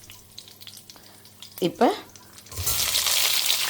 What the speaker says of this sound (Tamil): வெந்தயம் வந்து செவந்து வர ஆரம்பிச்சுட்டு கருவேப்பிலை போட்டுன்ட்டேன்